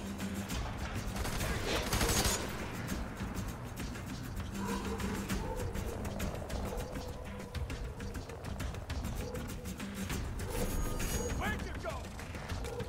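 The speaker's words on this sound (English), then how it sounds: "Shotgun!" Dense gunfire in the shooter F.3.A.R., with rapid bursts and shotgun blasts packed together over a busy, loud combat din with no clear gaps.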